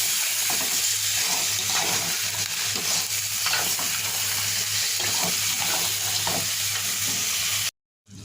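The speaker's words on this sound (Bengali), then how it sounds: "এবার চিকেনের গলা মাথাগুলো দিয়ে দিলাম এবার ভালোভাবে কষিয়ে নেব" Chicken necks and heads fry in spices in a pan, a steady close sizzle with stirring scrapes throughout, no talk, cutting off abruptly at the end.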